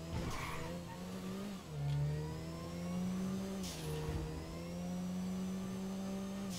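The engine of an Emperor Habanero SUV in GTA 5 revs and drones steadily, pitch dipping and climbing as it shifts, with a brief tire squeal near the start; close, continuous, and with no talk.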